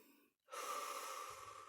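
A single deep breath during a neck stretching exercise, a brief pause followed by a long, close, airy inhalation that continues steadily to the end, with no talking.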